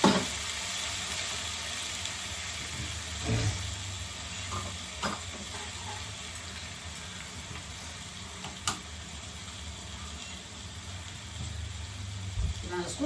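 Chopped onion and ginger garlic paste fry in a pan for prawn thokku, a soft, steady sizzle with occasional clinks and scrapes of a utensil, fairly quiet and continuous.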